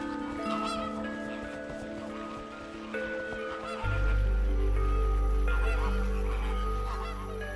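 A flock of flamingos on Bahamian sand flats, honking and gabbling together in a dense, continuous chorus at moderate distance, with a low rumble joining partway through.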